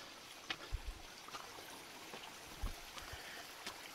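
A Himalayan mountain stream trickles steadily through forest in Uttarakhand, a soft continuous wash with occasional low knocks and splashes, faint and without talk.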